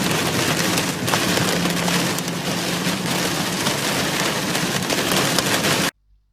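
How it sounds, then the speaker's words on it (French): Heavy rain pounding on a car driving through a downpour, a dense, loud, unbroken hiss of drops that suddenly cuts off near the end. "les conditions météo étaient épouvantables, avec une pluie battante"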